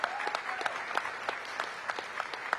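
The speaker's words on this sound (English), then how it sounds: "So give yourselves a round of applause." A crowd at the Safe Summer Summit in Washington, DC applauds, a soft, somewhat distant patter of clapping with a few rhythmic louder claps near the microphone.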